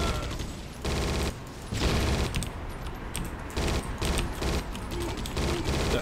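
Rapid bursts of gunfire in a Judge Dredd video game, several loud clustered volleys separated by short gaps.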